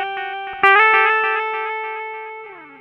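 A guitar note run through a BOSS DD-20 Giga Delay pedal with its treble boosted. A few plucked notes lead into a long sustained tone whose bright, hard-edged repeats trail off slowly into a fading tail, with no voices.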